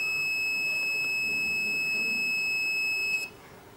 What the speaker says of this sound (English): the receiver is not receiving any IR light, so it is giving an alarm.